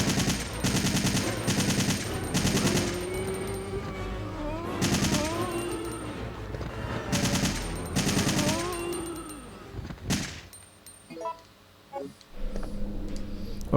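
Bursts of automatic gunfire in Resident Evil 3: Nemesis, several long loud rattling volleys with short pauses between, followed by a few scattered single shots and clicks near the end.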